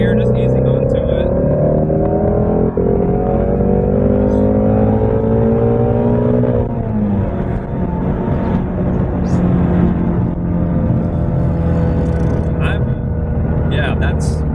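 A 2017 Ford Mustang Shelby GT350 pulling hard in third gear, its engine note climbing steadily in pitch, dropping at a shift, then building again, loud and close from inside the car with occasional talk.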